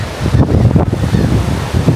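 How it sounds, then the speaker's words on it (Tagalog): Steady wind blowing over a microphone at the seaside in Hunstanton, Norfolk, England, with a rushing roar like surf at the shore, continuous and fairly loud. "Ang ganda yung hangin."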